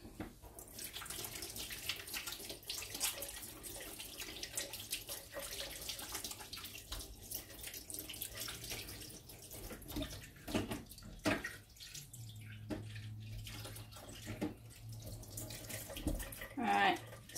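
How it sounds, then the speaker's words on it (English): A tap runs steadily as hands are rinsed at a sink, continuous splashing water with shifting tone and brief breaks. "I'm just going to rinse my hands"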